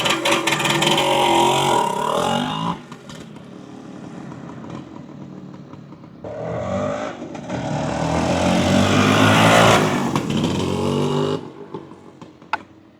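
A 1975 Suzuki TS400 Apache two-stroke motorcycle revs hard and loud nearby, drops back to a lower drone, then roars up again in a long second surge before fading briefly at the end.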